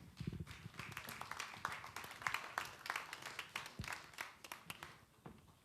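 A conference audience at a plenary session claps in scattered, irregular bursts as a moderator is welcomed to the stage, faint and somewhat distant, thinning toward the end with no talk over it.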